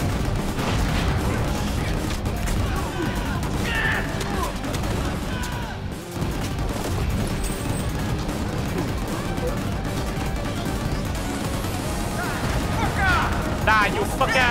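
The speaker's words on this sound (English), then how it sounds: "Explosion!" Continuous loud combat in the video game GunGrave G.O.R.E with booming explosions and gunfire-like bursts, dense and chaotic throughout, with brief shouting mixed in.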